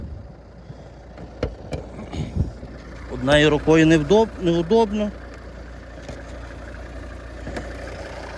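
A 2013 Volvo XC60 R-Design 2.4 D5 diesel idles steadily with the hood open, a low even hum running throughout beneath someone speaking and a few clicks.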